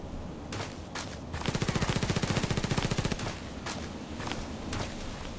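Gunfire from a Mosin-Nagant sniper rifle in the game Contract Wars: a few sharp isolated shots, then a dense rapid burst of fire lasting under two seconds, then more scattered shots.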